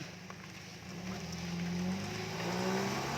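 A car engine runs and rises slightly in revs, a steady low hum with some mechanical harmonics, heard near and alone.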